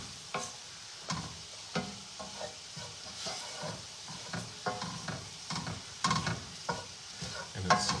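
About a quarter cup of seasoning being stirred into a sizzling pan while making pork medallions, with repeated close spatula scrapes and knocks over a low frying hiss, no talking.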